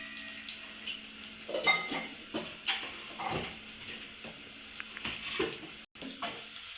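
Food frying in a pan in a home kitchen, with tomatoes and salt going in: a steady, close sizzle runs throughout, broken by clinks and stirring scrapes.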